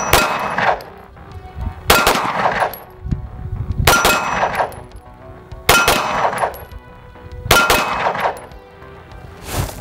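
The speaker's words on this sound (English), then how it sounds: "We're just gonna keep shooting because I like it." A Springfield Prodigy 2011 pistol fires at steel targets outdoors, five sharp loud shots spaced about two seconds apart, each followed by a ringing metallic clang that fades before the next.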